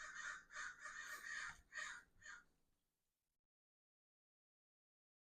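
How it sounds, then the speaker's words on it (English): Several crows caw from behind the house, a run of harsh repeated calls in quick bursts that fade out, then a long stretch of quiet. "I swear there's always crows out back talking to me."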